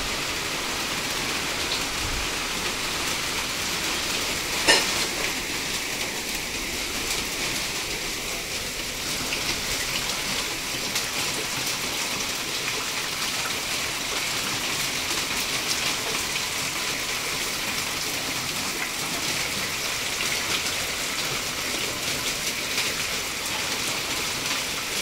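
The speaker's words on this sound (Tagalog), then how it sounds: "Grabe yung ulan" Heavy rain pours steadily for the whole stretch, a dense, even hiss with a single brief knock partway through; no voices.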